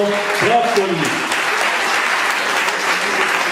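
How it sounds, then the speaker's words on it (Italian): An audience at an opera concert applauds steadily and loudly throughout, with a brief voice rising over the clapping near the start. "Facciamo pure questo grande applauso."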